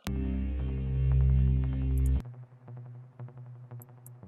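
A plain Synth1 synthesizer lead in FL Studio holds a sustained buzzy tone, then drops to shorter pulsing notes, clear and fairly loud with no voices.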